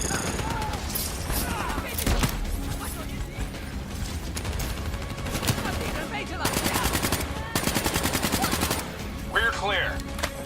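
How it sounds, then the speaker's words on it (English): Turret machine gun fire in the Black Ops 3 video game, rapid bursts of automatic shots crackling over a dense battle mix with other gunfire and mechanical clatter, loud and continuous. "We need to deal with that turret. We're not moving until that turret is down."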